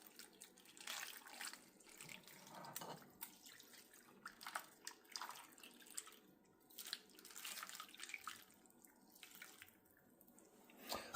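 Beef broth pours from a can into a pan, a faint close-up trickle of splashing liquid in irregular bursts, quiet and alone with no voices.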